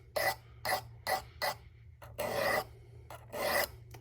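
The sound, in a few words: knife being sharpened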